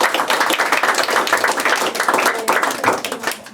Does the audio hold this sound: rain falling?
no